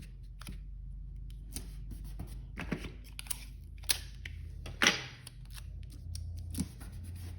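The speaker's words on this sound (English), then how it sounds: "I'm going to tape them together so that I have a nice, long, skinny sheet of paper for my banner." Sheets of paper being taped together for an art banner: scattered crisp crinkles, tape tearing and paper handling noises, close and fairly quiet with pauses between sounds.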